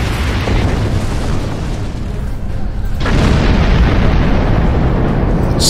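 Torpedo strike blowing apart a cluster of exploding barrels in the Star Trek Online space game, a loud broadband boom with a sustained rumbling burst that swells again partway through.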